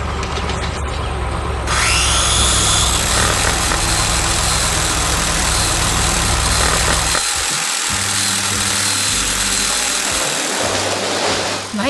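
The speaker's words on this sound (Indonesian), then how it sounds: "Suara smashing gergaji itu terdengar sangat kuat." A saw cutting loudly on a construction site, a continuous heavy grinding roar with engine-like rumble throughout, shifting tone partway and pulsing low near the end, with no voices.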